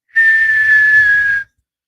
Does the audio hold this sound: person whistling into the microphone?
yes